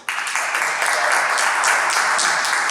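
A small room of club members at a Toastmasters meeting breaks into applause, dense close hand clapping that starts abruptly and carries on evenly for a couple of seconds with no talking over it.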